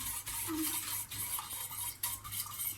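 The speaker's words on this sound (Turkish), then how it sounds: "Güzelce karıştıralım." A cake mixture with Godiva chocolate gets stirred in a bowl, a spoon scraping and clinking in short repeated strokes, close and fairly loud with no voices.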